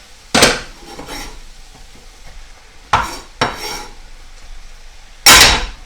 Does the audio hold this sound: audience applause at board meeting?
no